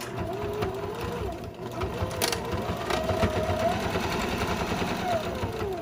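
Sewing machine stitching fabric shoe covers with elastic, a continuous fast rattling hum with small shifts in speed, close and fairly quiet, with a sharp click partway through.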